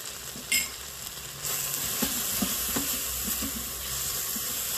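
Spices such as Kashmiri red chili, red chili and coriander seed powder fry in an Instant Pot for meatball curry, a close crackling sizzle with a sharp knock near the start and light stirring clinks after.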